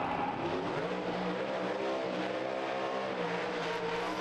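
A Pro Mod drag racing car at the British Drag Racing Championship roars down the track, its engine note climbing steadily through the gears as one loud, sustained run heard from a distance.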